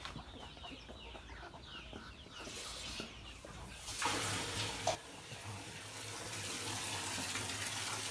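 Water runs from a tap to fill a drinking supply for chickens, a steady splashing flow that grows louder partway through while hens cluck softly nearby.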